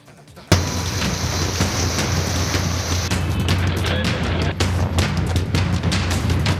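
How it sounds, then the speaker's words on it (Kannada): Heavy rain in Bengaluru starts abruptly and pours steadily, a dense hiss with scattered louder drops and splashes, close and continuous. "ಬೆಂಗಳೂರಲ್ಲಿ ಅಬ್ಬರಿಸುತ್ತಿರುವ ಮಳೆ,"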